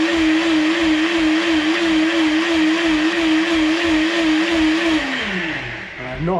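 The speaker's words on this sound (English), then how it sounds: "It goes to reprograms, which is why it does the slow and high." A kitchen blender making palak paneer (spinach and paneer) runs loud and close, whirring steadily with a pulsing motor tone before winding down and changing pitch as it shifts between slow and high settings.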